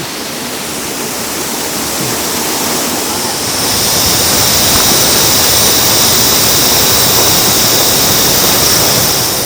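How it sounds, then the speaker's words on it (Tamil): A waterfall on the Agasthiyar Malai trek roars loud and steady, a dense continuous rush of falling water that swells slightly partway through. "ஃபால்ஸ் பாருங்கள் எப்படி இருக்குது"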